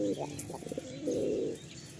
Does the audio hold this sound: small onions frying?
no